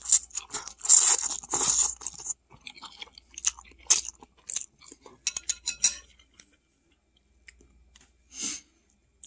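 Crunchy fried rice dinner with broccoli being chewed close up, loud crisp bites and crunches in irregular bursts, with occasional cutlery clicks and quiet pauses between mouthfuls.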